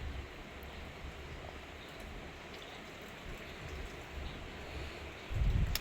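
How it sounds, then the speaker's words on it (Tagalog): Heavy rain falls outside a house as a steady, even hiss heard from indoors, continuous and moderately quiet, with a low thump near the end. "Malakas po ang ulan mga palangga."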